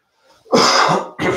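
A single harsh cough bursts out after a quiet moment, loud and close, followed shortly by the start of another.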